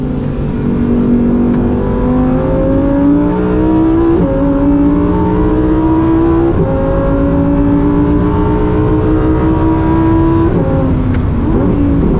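A 2023 Lamborghini Huracan Tecnica with a dual-clutch gearbox revs hard past 4,000 RPM, its exhaust note climbing in pitch through several gears with quick shift breaks, loud and close throughout.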